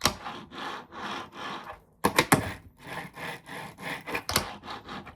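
Small hard fingerboard wheels roll back and forth across a wooden deck in quick, rhythmic passes, with a couple of sharp clacks between strokes.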